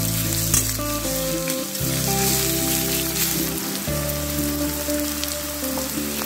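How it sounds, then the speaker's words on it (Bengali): Onions fry in a pan over a high flame with a steady, close, dense sizzle that keeps going without a break and with no voices over it. "পেঁয়াজ একটু ভেজে নিচ্ছি। ফ্লেমটা আমি এখন হাইয়ে রেখেছি।"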